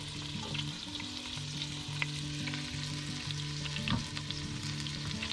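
Celery, carrots and garlic sizzle steadily in a pan for soup, with a few stirring clinks and scrapes over the continuous close frying hiss; no one speaks.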